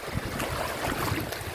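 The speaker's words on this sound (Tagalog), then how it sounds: "Ay, laki na ng alon doon." Rough, steady wash of large ocean waves churning around a boat, with gusty wind buffeting the microphone throughout.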